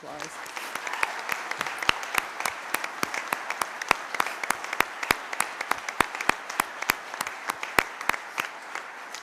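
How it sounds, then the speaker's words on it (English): A university audience applauds former presidents at a presidential announcement event, steady clapping sprinkled with sharp, distinct claps close by over roughly nine seconds. "Can we please give you a round of applause?"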